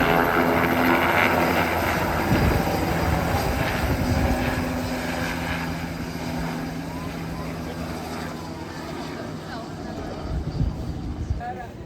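A steady, loud engine roar with a thudding rotor beat from a tour helicopter at Sugarloaf Mountain in Rio de Janeiro continues throughout, with voices faintly underneath.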